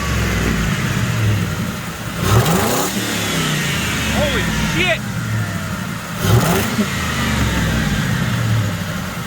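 Ford Crown Victoria V8 with a DIY cold air intake and a small exhaust leak revs loudly twice over a rumbling idle, each rise and fall standing out close by amid wide-band engine noise.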